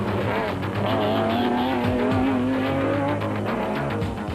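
Ford Ranger race trucks in the Carnival City 400 race, a steady loud engine roar with rising revs and tyre noise, continuous throughout.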